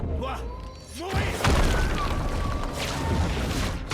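An enemy blowing up in the video game Clair Obscur: Expedition 33, a deep booming blast with crashing, shattering debris that swells and rumbles on for a few seconds among other game sounds.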